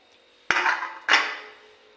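Two sharp metallic clanks come about half a second apart as a lid is set upside down on a pot over a sieve, each ringing out briefly before it fades.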